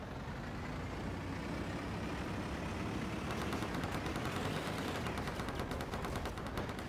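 Rapid, continuous gunfire aimed at a half-track in the Darkest Hour video game, layered over a steady rumbling engine, the shots growing more distinct and rhythmic midway.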